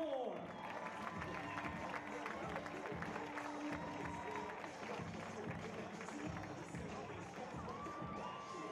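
Applause fills an arena as the top six teams take the floor at the 2014 East Coast Championship team finals, a sustained crowd of clapping and cheering with a deep rumble and a voice over the public address.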